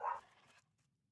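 A dog gives a single short bark from somewhere in a house, faint and distant, followed by near silence.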